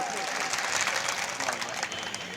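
Loud, steady applause from a crowd at a political rally in Kishanganj, Seemanchal, filling the whole stretch as dense clapping with no clear breaks.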